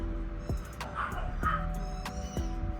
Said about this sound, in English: The dogs are playing outside, so they're going to be extremely rowdy.